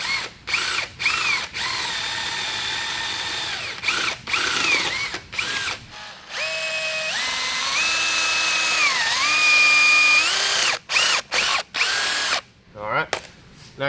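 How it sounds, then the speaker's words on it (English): Power drill enlarging bolt holes in a go-kart rotor mount, short bursts of whining spin, then a longer run with rising and falling pitch as the bit bites, with a few sharp clicks, close and loud. "Now I got to get those holes a little bit bigger to accept our bolts"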